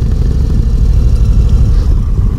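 A 2022 Indian Roadmaster touring motorcycle engine drones during a ride, a loud, steady low rumble with wind noise and no talk over it.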